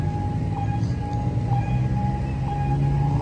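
Train rumbling past the Sri Ayutthaya Road level crossing as the crossing signal bell rings steadily, a sustained loud low rumble with a repeating chime above it, close by.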